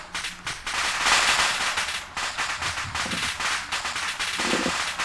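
Gunfire in ARMA 2, dense rapid cracks and bursts of shots overlapping continuously, loud and near with a sustained roar between volleys and no talking.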